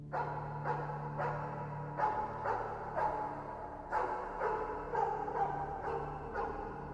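A dog barks repeatedly in a steady rhythm, roughly two barks a second, at moderate volume over a low background hum, in the video game Five Nights at Freddy's.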